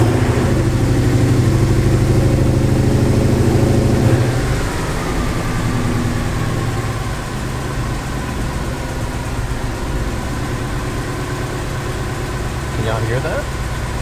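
Ford Mustang with a Coyote engine idling on ramps with a suspected tick, a close steady rumble that drops slightly after a few seconds and continues evenly, with a person talking over parts of it.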